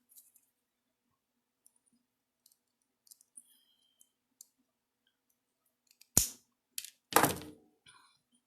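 Wire cutters snip off the end of bangle wire on a handmade bead and wire bangle, giving a few sharp close clicks and snaps after scattered faint ticks.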